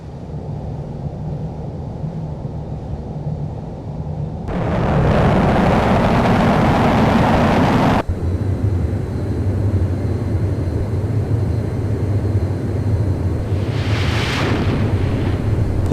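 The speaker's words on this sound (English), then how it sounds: "You don't need afterburner to take off using the catapult." Simulated jet launched by catapult from an aircraft carrier in Flight Simulator X: a steady engine roar surges at about four seconds into a loud broadband rush, then settles into a continuous heavy jet drone with no voices.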